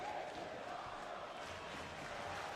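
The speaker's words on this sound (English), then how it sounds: "This is awesome chants by this Kansas City crowd." A Kansas City arena crowd in the WWE 2K wrestling game chants "This is awesome" as a steady, dense roar of many voices, heard at low volume.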